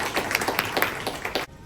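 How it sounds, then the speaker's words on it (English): Audience applause at a women's empowerment conference in Suffolk, a quick run of scattered hand claps lasting under two seconds and then stopping abruptly. "We should all clap for us."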